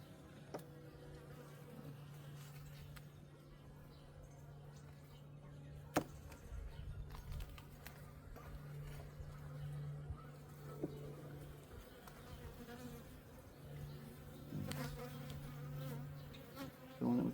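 Honey bees hum steadily around an open hive during a backyard inspection in early spring, a continuous low drone with occasional closer buzzes and faint handling knocks.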